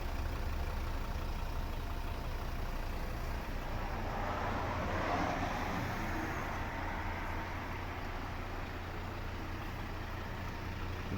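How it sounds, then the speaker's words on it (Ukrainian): A 2011 Volvo V60 with a 2.0 D3 diesel engine and automatic gearbox idles steadily and quietly, a low, even rumble that holds unchanged throughout with no voices. "автомобіль заведений. Дуже рівно тихо працює"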